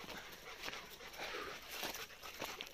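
A dog on a dry mountain hike gives soft whimpers and pants amid steady outdoor noise and scuffing steps, faint and intermittent, with no talk.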